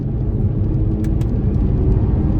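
A 2016 BMW X1 turbo engine accelerating in sport mode, a loud, steady low rumble and road roar heard from inside the cabin, with no voices.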